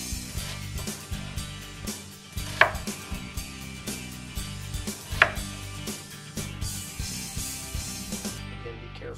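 A knife slicing straight down through a stacked onion on a cutting board: a fast, regular run of close, crisp chopping taps against the board, with a couple of sharper louder hits, and no voices.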